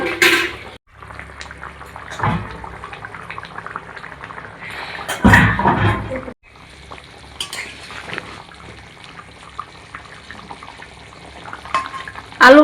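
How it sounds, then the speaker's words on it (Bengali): A soybean and potato curry with turmeric bubbles and simmers in a pan, its soft churning broken by louder bursts of stirring and utensils clattering against the pot, with brief quiet gaps. "এক চামচ হলুদ গুঁড়ো, এবার এটা ফুটতে থাক।"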